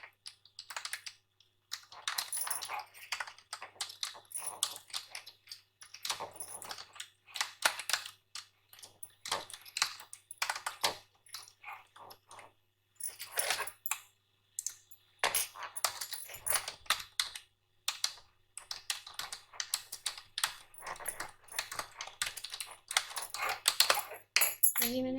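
Steady clattering of keys as text is typed on a computer keyboard, close and quiet, in uneven bursts with short pauses throughout.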